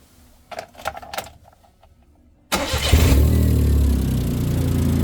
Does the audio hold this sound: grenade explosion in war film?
no